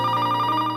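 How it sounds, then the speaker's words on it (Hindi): A telephone rings loudly and close by, a continuous electronic warbling tone that holds steady before cutting off. "फोन की घंटी।"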